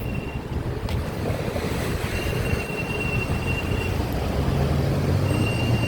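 An electric train rolls past near a floodgate, a steady loud rumble of wheels and rail noise with faint high squeals, continuous throughout with no talk.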